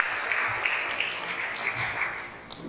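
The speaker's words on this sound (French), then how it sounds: "Oh, acclame très fort la parole de Dieu ce matin." A church congregation claps and applauds during a French-language sermon, a steady wash of many hands with scattered sharper claps, moderately loud and continuous for a few seconds.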